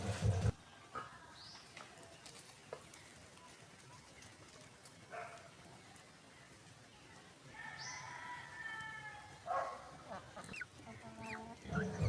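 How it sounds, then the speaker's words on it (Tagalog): Native chickens are kept as backyard pets, with scattered clucks and squawks, some close, spread over a quiet outdoor background with brief bursts of sound. "Update sa aming mga alagang manok."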